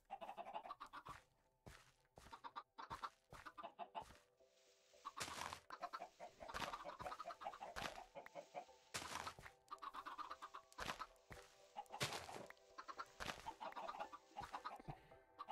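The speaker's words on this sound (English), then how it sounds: "sick of these chickens." Chickens in the Minecraft video game cluck repeatedly up close, short choppy calls coming in irregular bursts with brief pauses, alone with no talking.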